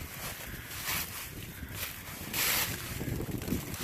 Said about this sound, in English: Man, that wind. I'm just trying to get out of it.